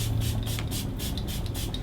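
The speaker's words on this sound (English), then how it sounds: "now I'm going to use the Morphe Luminous setting spray" Morphe Luminous setting spray misted in several quick, close bursts during a makeup session, soft airy hisses pulsing in a steady rhythm.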